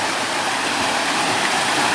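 River water flows steadily with a dense, even rush that holds at the same level throughout, close by and with no voices over it.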